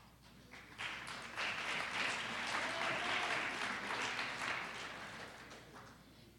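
Audience applause at a student awards ceremony, a sustained round of clapping from a crowd that rises, holds for several seconds and tapers off, heard at moderate distance.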